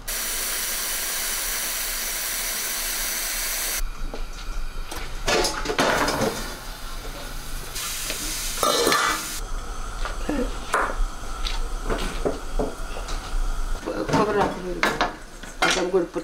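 Crushed tomatoes cooking in a pot, with clattering spoon and pot knocks, scraping stirs and a low steamy hiss, close and busy throughout.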